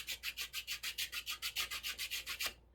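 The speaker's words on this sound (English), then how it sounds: "I'm just going to take my sanding block" A sanding block is rubbed back and forth across a small wooden hinge piece in about sixteen steady, even strokes, close and alone, ending abruptly.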